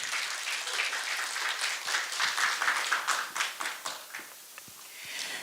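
An audience at a Buddhist media culture awards ceremony applauds, dense clapping that swells and then thins into scattered claps before fading, with a faint murmur toward the end.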